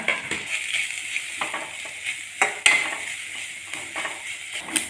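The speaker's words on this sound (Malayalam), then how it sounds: "രണ്ട് കറിവേപ്പില എടുത്ത് കൊടുത്തിട്ടുണ്ട് പിന്നെ ഒരു അരക്കഷ്ണം ഇഞ്ചിയും കൂടി ചേർത്തിട്ട് നമുക്ക് തേങ്ങ നന്നായിട്ടൊന്ന് വറുത്തെടുക്കാം" Grated coconut roasting in hot coconut oil with garlic, curry leaves and ginger in a home kitchen pan, a steady close sizzle broken by occasional scraping and stirring clinks, with no talking.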